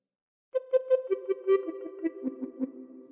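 Recorder playing a phrase of Row Row Row Your Boat, a string of about a dozen short, clear tongued notes in a simple stepwise tune, close and alone after a brief silence.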